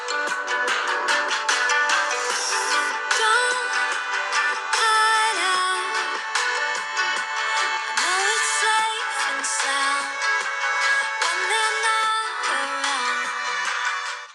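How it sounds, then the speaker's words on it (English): A Samsung Galaxy A73 5G phone plays music through its stereo speakers at maximum volume, loud, dense and continuous with a bright, full tone and no talking over it. "so that was on the maximum volume on the Galaxy A73 5G, and I have to say that the speaker quality sounds really good"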